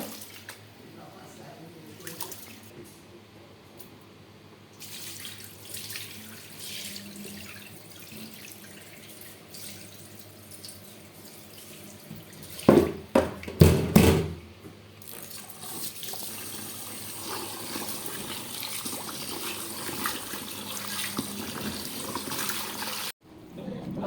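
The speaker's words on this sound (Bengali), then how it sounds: "এই তো আমি চালগুলো সুন্দর করে ধুইয়া তারপর পানি জড়াইতে দেবো।" Water runs and splashes steadily from a tap, with a burst of louder sloshing midway, as rice is rinsed for biryani.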